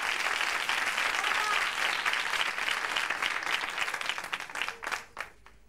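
Audience applause during a televised tribute special for Rocío Jurado: dense, loud clapping that holds steady for several seconds, then thins into a few scattered claps before dying away.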